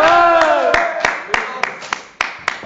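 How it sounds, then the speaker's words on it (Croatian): Slow, evenly spaced hand claps ring out sharply one after another, with a voice sounding at the start. "Vera, aplauz!"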